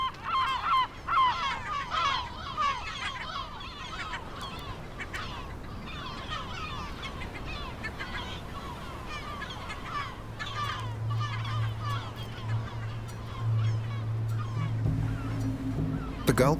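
A gull colony on El Hierro calls continuously, overlapping honking and squawking cries close and far, with a low droning hum entering later.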